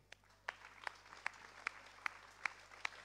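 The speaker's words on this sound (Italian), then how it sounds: "Applausi." Sparse, slow claps from a small audience at a local event on Anacapri, Italy, roughly seven distinct hand claps spaced about evenly apart over a quiet background hum.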